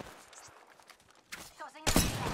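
Gunfire from Apex Legends, loud broadband bursts that erupt late in the short stretch after quieter game noise, with some voice activity alongside.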